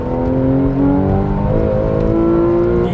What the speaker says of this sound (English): and as soon as you step on the throttle,